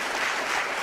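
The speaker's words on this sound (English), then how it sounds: "I just want to give you all a huge round of applause." An audience gives a brief, dense burst of steady applause for the speakers at the end of a talk in a lecture series.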